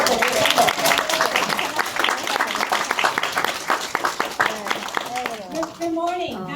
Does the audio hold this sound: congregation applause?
yes